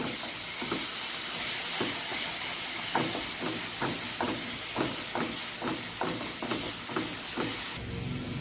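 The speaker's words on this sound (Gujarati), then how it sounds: "મિક્સ કરી થોડીક વાર આપણે એને સડવા દઈશું તેલ છૂટું પડે ને ત્યાં સુધી" Onion-tomato masala with salt and turmeric sizzles steadily in hot oil in a pan. The hiss is loud and close, with regular stirring scrapes roughly every half second and no talk.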